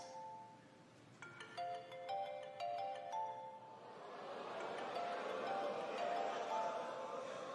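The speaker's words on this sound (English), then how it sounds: "Go on and answer your phone" A mobile phone rings out in a comedy-show audience, a repeating electronic melody of bright tones, moderately loud, later sinking under a swelling wash of crowd noise and laughter.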